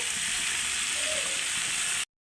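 Ground turmeric, chili powder, salt and coriander powder hit hot oil for a drumstick and silver carp fish curry, producing a dense, even sizzling hiss that holds steady and close for about two seconds before cutting off.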